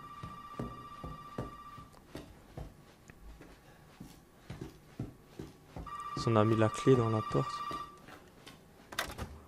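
A telephone rings in the Resident Evil 7 demo game, a repeated electronic trill under footsteps and someone talking, growing louder and denser partway through.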